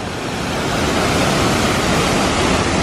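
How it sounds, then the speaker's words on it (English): A small stream with a waterfall crossed on a mountain hiking trail, its steady broadband rushing roar close and loud, continuous and unbroken throughout. "And we're crossing this little stream with beautiful waterfall on it."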